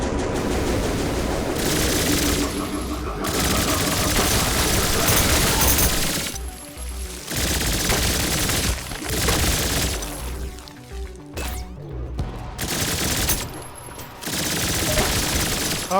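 Dual submachine guns in a video game fire in long, loud, continuous bursts that break off briefly and then resume, with crashing effects mixed in.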